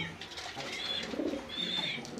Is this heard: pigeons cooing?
yes